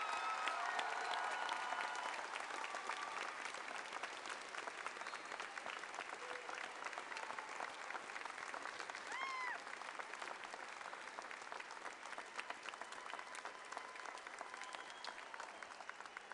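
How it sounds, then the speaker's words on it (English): Sustained audience applause for Navy and other military enlistees at a 2017 Goose Creek Memorial ceremony, a broad, even roar of many hands clapping from a large crowd, distant and fairly faint, lasting steadily with scattered faint voices underneath. "Can we give these young ladies and men a round of applause?"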